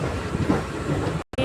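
A train pulls into a small village stop with a brief, dense rolling rattle and wind buffeting, cut by a short dropout.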